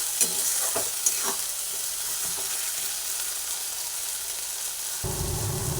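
Spice masala with Kashmiri chilli powder frying and being stirred in a pan while making chicken, a steady soft sizzle with a few scraping strokes early on and a louder burst of frying near the end.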